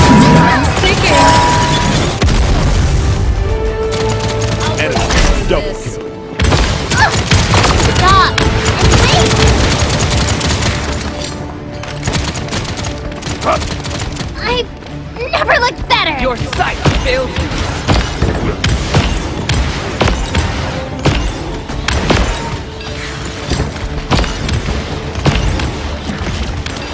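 A big gun blasting in the shooter game Paladins: loud, sustained bursts of rapid gunfire and heavy booms that fill the whole stretch, with brief dips between volleys and clashing game effects throughout.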